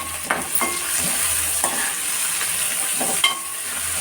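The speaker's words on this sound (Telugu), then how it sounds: "కరివేపాకు వేసుకుంటున్నాను." Curry leaves fry in hot oil with a steady hiss, and a few sharp spatters and spoon clicks sound up close.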